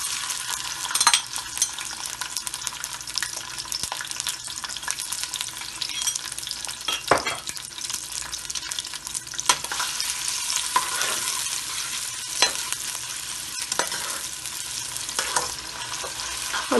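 Onions sizzling and frying in oil for chicken tahiri biryani, a steady broadband crackle with occasional stirring scrapes, close and continuous with no talking.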